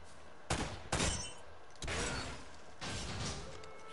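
Gunfire in the video game Uncharted: two sharp, loud shots in quick succession followed by two further heavier bursts, with no talk over them.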